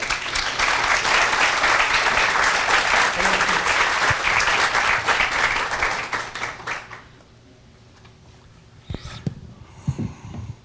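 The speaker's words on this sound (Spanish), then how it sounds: "Lo recibimos con un aplauso" Loud, dense audience applause welcomes an engineer at a university business-faculty lecture on public procurement for infrastructure, holding steady for about seven seconds before fading into a quiet hall with a few scattered small noises.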